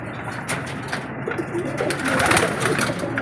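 Pigeons coo steadily nearby, soft throaty calls overlapping in a continuous murmur with a few louder coos rising in the middle.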